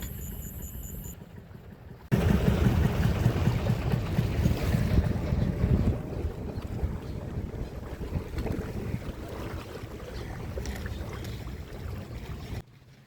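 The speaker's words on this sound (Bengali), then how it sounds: "এখন আমরা চলে আসলাম মোহনপুর বাজার লঞ্চ ঘাটে।" Boats on the water at Mohanpur Bazar launch ghat, heard as a steady, loud wash of engine rumble, water and wind noise that carries on for about ten seconds with no talk.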